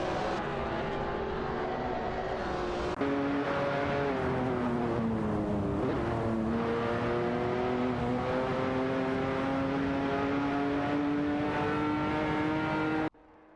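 Race car engines roar continuously in a racing video game, a Nissan GT-R Nismo and a Lamborghini Asturion dueling, one steady high-revving whine rising slowly while a dense engine drone holds loud throughout before cutting off abruptly at the end.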